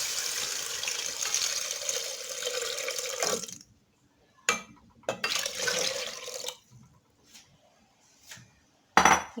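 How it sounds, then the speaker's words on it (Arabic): Shrimp cooking water is poured into a pot to make broth for an Asian-style seafood soup, heard as two close splashing pours separated by a pause, followed by a few light clinks. "غادي ندير المرق الماء تاع الكروفيت"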